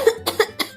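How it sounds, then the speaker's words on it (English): A person coughs three times in a short, fairly loud burst, each cough sharp and separated by a brief pause, with no talking. "I've got a cough."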